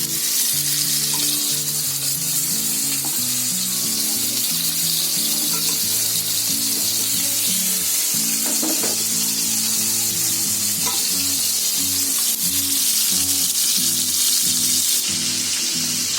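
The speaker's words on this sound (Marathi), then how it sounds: "आपली इथे मच्छी फ्राय होते" Fish head and tail pieces fry loudly in hot oil in a dhaba-style kitchen, a dense, constant sizzle over steady tonal music-like sounds in the background, with no speech.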